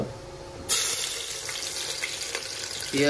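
Onions hit a hot pan for Odisha-style mutton curry, bursting into a loud, steady sizzle that holds bright and close throughout, with a brief burst of hotter frying near the end.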